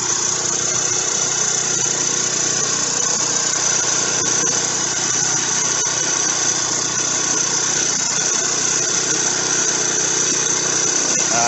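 53cc 4-stroke motorized bicycle engine running steadily, a buzzy high-pitched drone that stays loud and constant throughout, close by, with rain conditions and no clear voices.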